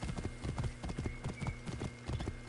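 Rhythmic hoof thuds from a horse galloping at speed in Assassin's Creed Origins, repeating in quick groups of beats, close and even for a couple of seconds.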